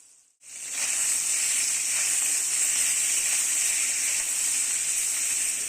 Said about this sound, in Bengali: পনিরগুলো অল্প অল্প করে ভালো করে ফ্রাই করে নেব, হালকা হালকা ব্রাউন কালার হলেই তুলে নেব